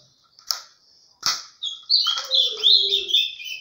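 Small bird chirping inside a trap cage: a few sharp separate chips, then a rapid run of bright twittering notes, close and clear with no voices.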